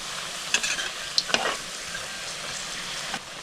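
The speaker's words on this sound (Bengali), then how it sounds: "পকোড়াগুলো ভালো করে উল্টে পাল্টে ভাজবেন, চারদিকে হয়ে যাবে পকোড়াটা লাল লাল।" Cauliflower pakoras fry in hot oil with a soft, continuous sizzle, broken by a few sharp clinks and scrapes of a utensil turning them. No one speaks.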